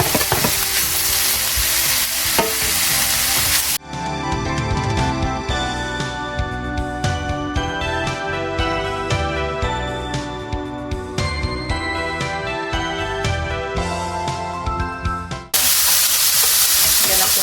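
Beef for Japanese-style nikujaga frying in a pan, a dense loud sizzle that runs steadily, with stirring and scraping against the pan and no talk over it.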